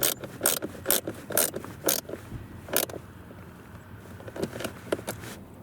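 Ratchet tightening the bolts on a blower motor and resistor in a 2011-2016 Scion tC: several bursts of quick, close mechanical clicking, with pauses between strokes and no talking.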